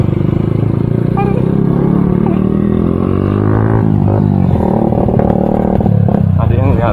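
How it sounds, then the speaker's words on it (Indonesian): Motorcycles idling and creeping through a night traffic jam, giving a dense, close rumble of engines with occasional revs and clatter. People talk over the engine noise. "banyak motor juga tuh"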